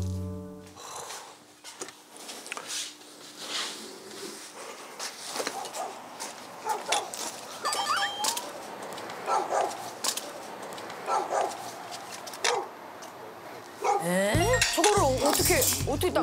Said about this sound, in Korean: 동네 개들은 기합 파사님 보면 다 짖네